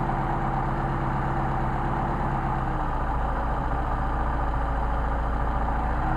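A Mercedes 190SL engine with Solex carburetors idles steadily while both carburetor intakes are closed off by thumbs. The idle is a loud, constant low rumble that shifts partway through as the engine note drops, with no talking.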